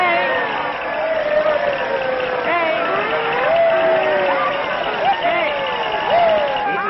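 Bustling New Year's Eve crowd in a 1938 film scene, a continuous dense babble of many voices with shouts and noisemakers swooping through, steady and fairly loud throughout.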